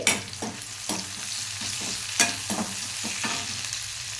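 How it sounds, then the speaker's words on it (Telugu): Curry leaves sizzle and crackle in hot oil in a pan for a fish and tomato curry, with a steady frying hiss broken by several stirring scrapes. "ఆయిల్ కొద్దిగా కూడా వేసుకోండి చూడండి ఇలాగా కరివేపాకు వేసుకోండి"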